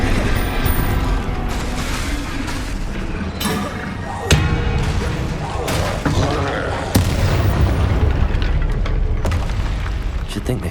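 Repeated Bombarda spell blasts in Hogwarts Legacy, heavy booms and bursts over a dense, continuous game soundscape with sharp impacts recurring throughout, loud and close.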